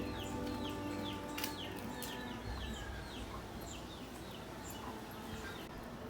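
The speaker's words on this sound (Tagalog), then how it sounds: "Sumasabay ang huni ng mga ibon sa yapak ni Claire papunta sa kanilang paaralan." Outdoors on a sunny walk to school, birds chirp in short repeated calls, some close and some farther off. A rooster-like call and a steady hiss of ambient noise sit underneath, with no talking.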